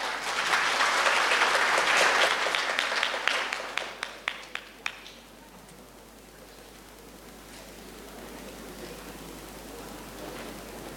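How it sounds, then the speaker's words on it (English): A conference audience applauds a keynote speaker with loud, dense clapping that thins to a few last distinct claps around five seconds, then drops to quiet room tone. "Please give a round of big applause for our keynote speaker, Dr. Pisit Liatham."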